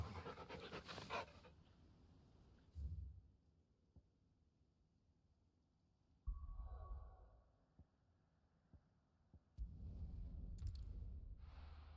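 A hound in a video game panting in short breathy bursts, separated by quiet stretches with faint clicks and a soft tonal ping, fairly close and low in level with no talking.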